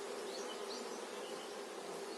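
A dense swarm of honeybees on a hive frame buzzes steadily at close range, a continuous, even hum with no other sounds.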